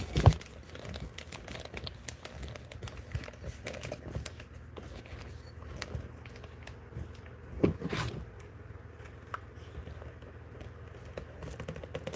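Paper being crinkled and stuffed into a cup during a crafting session, steady close rustling and crumpling textures throughout with a sharper crackle burst near the middle, no talking.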